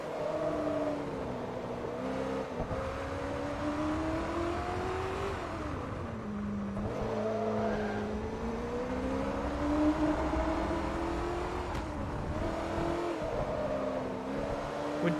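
A race car engine in the video game Forza Motorsport 3, battered and worn, revs up and down through gear changes for the whole stretch, a steady moderately loud whine with rising and falling pitch, no talk.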